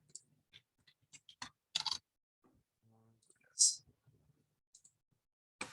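Scattered clicks from a computer keyboard being typed on in short irregular bursts with pauses, fairly close and quiet, with a brief louder hiss and a faint low hum in between.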